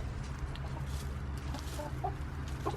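A young chicken in a backyard flock, about 21 weeks old, squawks and clucks in several short, sharp bursts over a constant low rumble of background noise, with no talking.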